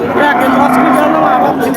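A cow at a busy cattle market in Chougacha, Bangladesh, gives one loud, close, drawn-out moo that fills nearly the whole moment.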